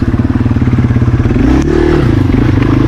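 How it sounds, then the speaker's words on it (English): Dirt motorcycle on a muddy trail with its rear wheel peeling out, the engine revving loud and close in a rapid pulsing drone that swells briefly mid-clip, with no talk. "I try to pop the wheel up and it just peels out in the mud"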